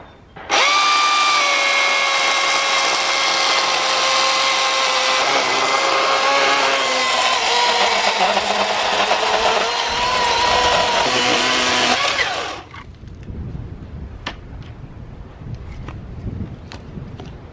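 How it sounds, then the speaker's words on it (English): A loud, steady chainsaw engine whine with strong harmonic tones runs for about twelve seconds while cutting aged, darkened wood, then cuts off, leaving quieter outdoor noise. "First time using my chainsaw all year."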